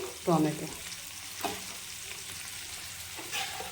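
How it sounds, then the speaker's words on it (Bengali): Tomatoes and onions fry in a pan with a steady sizzle, broken by a few short clinks and stirring scrapes, one sharper near the start and a softer one midway, close and moderately loud with no talk. "টমেটো আর পেঁয়াজকে খুব একসাথে সুন্দর করে ভালোভাবে ভাজতে লাগবে"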